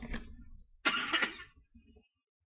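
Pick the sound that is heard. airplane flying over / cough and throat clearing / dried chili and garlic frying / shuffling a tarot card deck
cough and throat clearing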